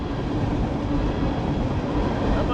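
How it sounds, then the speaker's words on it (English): A passing coal train roars loudly and continuously, a dense rumble of wheels and cars filling the clip with no voices. "got a coal train"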